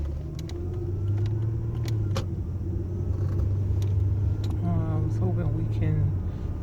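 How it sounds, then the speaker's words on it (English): A 2005 Lexus ES 330 driving with a suspected failing driver's-side wheel bearing, steady low road rumble and drone under quiet cabin sounds, with occasional faint clicks and a brief rising whine near the end. "it sounds like it may be a wheel bearing coming off on the driver's side"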